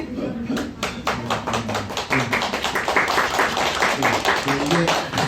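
Audience applause after a Korean film talk for "Juhee from 5 to 7," a dense crackle of many hands clapping steadily through the whole stretch, with a voice speaking over it at moments.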